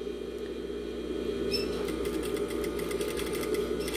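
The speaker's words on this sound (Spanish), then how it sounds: "Ahorita lo vamos a coser con una puntada de hilván, nada más para que se sostenga y sea mucho más fácil colocarlo." Industrial straight-stitch sewing machine basting along the edge of a buttonhole piece: a quiet hum from the motor, then a rapid, even stitching chatter over the last couple of seconds, with no talking.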